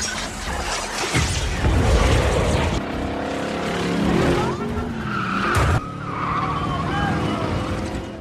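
Car tires skidding during a street race in a Fast & Furious 8 scene with an old, overheating car, a loud sustained screech under engine roar and music, with a sharp break near the end.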